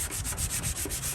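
Rhythmic back-and-forth rasping of a sanding block on body filler on a 1929 Ford Model A Roadster, steady close strokes with no voices.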